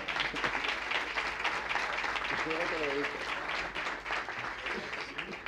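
Audience applause at a conference on family business governance, a full crowd clapping steadily with some voices and a brief vocal sound mixed in before the clapping thins near the end.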